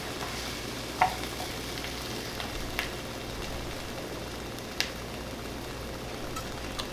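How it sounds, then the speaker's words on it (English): Venison burger meat browns in a pan for venison chili, giving a steady, moderate sizzle and frying hiss with occasional stirring scrapes and a few sharp clicks, with no talking. "the venison burger. So I think we're going to just go ahead and add that in here, and then we'll just brown that up"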